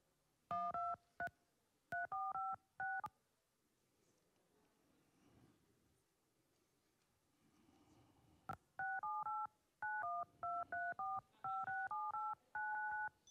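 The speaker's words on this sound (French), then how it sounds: "pouvoir aller faire sonner les téléphones portables du public" Audience members' mobile phones sound together as a concert instrument, playing bursts of telephone keypad tones in quick rhythmic sequences separated by a quiet stretch with faint room murmur.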